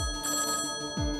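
A telephone bell ringing indoors in a home, steady tonal ringing with sustained harmonics across the whole short stretch, fairly loud and alone with no talk.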